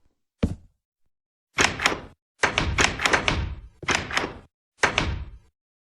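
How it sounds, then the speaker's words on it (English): Minecraft doors in a glitch-based noise trap give a series of sharp wooden clunks, a single knock followed by quick clustered bursts of banging, loud and close with silent gaps between groups. "AwesomeG's next move is to make a noise trap, abusing a glitch with door hitboxes"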